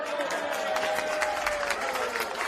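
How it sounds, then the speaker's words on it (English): A crowd at a State League One finals football match between Adelaide Blue Eagles and another side cheers and applauds, a steady wash of distant voices and clapping. "And for that he gets a decent cheer from the crowd."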